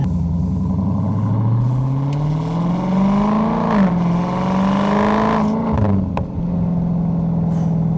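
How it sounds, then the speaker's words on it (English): A 2023 Dodge Charger Scat Pack Wide Body engine burbles and revs in a continuous low rumble, pitch climbing and dropping with crackling exhaust pops near the end. "It's just some nice burbles."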